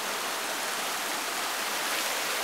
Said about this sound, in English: Literally the water is rushing that close to my foot.